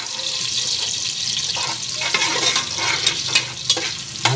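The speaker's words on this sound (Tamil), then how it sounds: "நல்லா பொன்னிறமாக வறுக்கணும் வெங்காயத்தை எண்ணெயில்." Onions frying in oil with cinnamon bark in a pan give a steady, close sizzle and crackle, broken by irregular scraping and clicking as a spoon stirs them.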